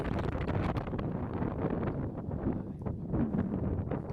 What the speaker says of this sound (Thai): ลมแรงมากตอนนี้พูดอะไรไม่ดีเลย